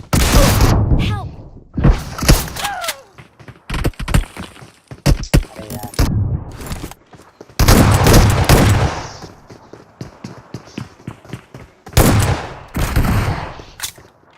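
Rapid bursts of gunfire in a 2v2 shooting video game, loud and close, coming in repeated volleys with short pauses and heavy thuds, while a player talks excitedly in between.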